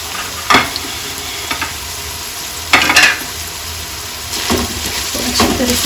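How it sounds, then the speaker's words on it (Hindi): Chopped onions sizzle and fry in a pan for a minced-meat pasta dish, with three or four distinct bursts of scraping stirring against a steady background crackle. "अब हम इसमें अपनी प्याज ऐड कर लेंगे।"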